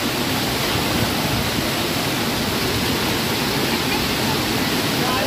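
The fast-flowing waterfall at Amboli Ghat roars in a loud, steady, broadband rush of falling water, close and unbroken throughout.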